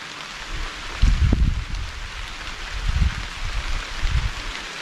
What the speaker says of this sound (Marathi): पाऊस देखील सुरू झालेला आहे